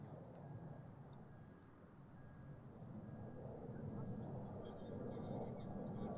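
A KLM Boeing 777ER airliner arriving from Salt Lake City at Amsterdam Schiphol makes a steady, distant broadband roar that swells slightly toward the end, with faint chatter in the background.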